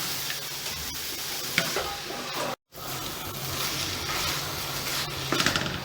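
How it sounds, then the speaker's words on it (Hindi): Cauliflower and mutton fry together in a pan, making a steady sizzle broken by scraping stirs and a brief gap of silence midway, with nobody talking. "अब तकरीबन इसको हम 15-20 मिनट के लिए भूनेंगे।"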